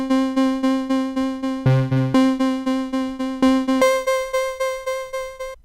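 A synth piano sample plays a bright, tonal note pattern with regular repeated attacks and decays. A short chordal passage sits in the middle, all clear and alone.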